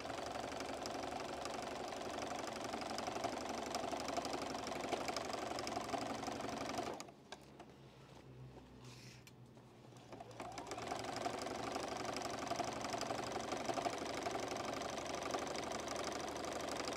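Domestic sewing machine stitching quilt blocks together with a quarter-inch seam, a steady close whirring hum that pauses briefly midway, then resumes running alone.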